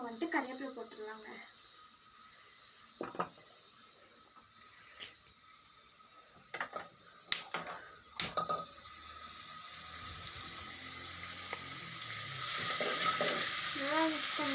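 A curry base fries in a pan with curry leaves going in, giving a steady sizzle broken by scraping stir clicks and clatters, the frying hiss growing louder and fuller toward the end.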